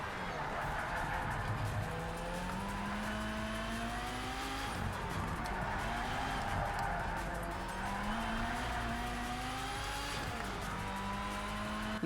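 A race car in the driving game Project Cars 3 runs continuously with engine pitch rising and falling through gear changes and corners, steady and close, with tire noise throughout.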